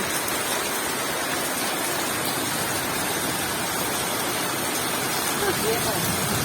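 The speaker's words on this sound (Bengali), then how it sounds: "কি জোরে বৃষ্টি হচ্ছে" Heavy rain pours down steadily where water is pooling, a dense, even hiss that fills the whole stretch at constant loudness.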